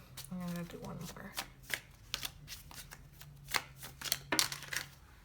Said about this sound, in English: I'm just gonna do one more shuffle